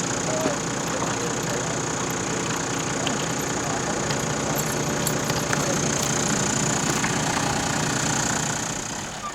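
A Toyota 4WD's engine runs steadily at a low idle, with a continuous mid-low rumble that holds level throughout and fades slightly at the end.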